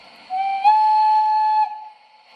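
A high-pitched O gauge European toy steam locomotive whistle sounds in one sustained blast of about a second and a half, close and loud, with a brief pitch lift near the start.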